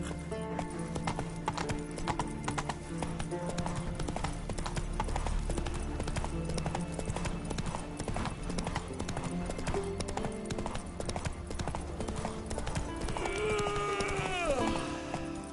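Horse hooves clip-clop in a steady, brisk rhythm in a video game, accompanied by creaking and faint game ambience, with a brief whinny-like sound near the end.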